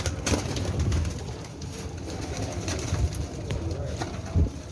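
About thirty pigeons coo softly and repeatedly in a low, rolling murmur, with occasional wing flutters and clicks in a close, busy loft.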